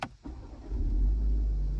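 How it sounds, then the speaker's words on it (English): A 2024 BMW X3 engine starting with the push-button start, a brief click and starter whir, then the engine catching into a low, steady idle rumble that holds, close and clear with no talk. "put your foot on the brake, and then right over here, push to start"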